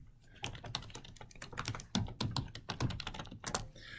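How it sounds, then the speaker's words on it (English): Rapid typing on a computer keyboard, with dense irregular key clicks and a few heavier thunks running steadily throughout, close and clear with no talking. "it would help if I'm typing."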